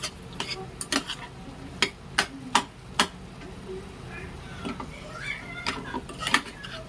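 A spoon stirring and scraping a potato curry in a metal pan, sharp irregular clicks and clanks against the pan, with light talk in between.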